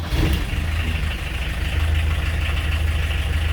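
A van engine idles steadily after starting, a continuous low rumble with a faint hum on top, close and even throughout with no voices.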